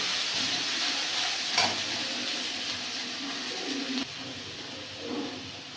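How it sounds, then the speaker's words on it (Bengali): Spice masala frying in a pan for papaya kofta, a steady soft sizzle and hiss with a few stir scrapes, heard close over a continuous background with bird cooing nearby. "দিয়ে মশলাটা ভালো করে কষিয়ে নেব"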